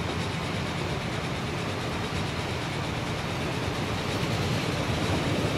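A diesel train in Transport Fever rumbles past at close range, a steady, dense roar of engine and wheel noise holding evenly for several seconds with no voices over it.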